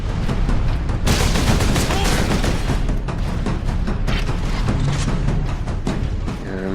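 Rapid, dense bolter gunfire from the Space Marine video game, a loud continuous barrage with explosive booms that hardly lets up, heavy and close throughout, with a faint voice mixed in.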